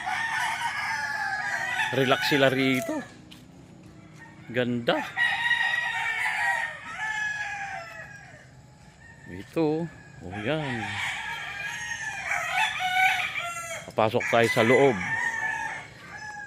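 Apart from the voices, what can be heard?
roosters crowing at a chicken farm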